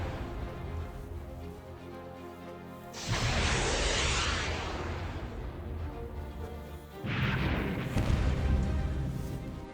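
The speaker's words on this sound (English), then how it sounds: "that sounded like, yeah, more AIM 7s and probably some AIM 9 shots about to be taken" Missile launches of AIM-7 and AIM-9 weapons in the naval and air combat game Command: Modern Air/Naval Operations: two loud rushing whooshes, each starting abruptly and lasting several seconds over a low droning background.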